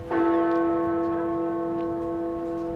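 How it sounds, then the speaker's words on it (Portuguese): Big Ben in London tolling one of its eleven chimes, a single loud, deep strike followed by a long ringing hum of sustained tones that slowly decays, with no other sound around it. "O Big Ben, em Londres, fez a sua estreia com 11 badaladas"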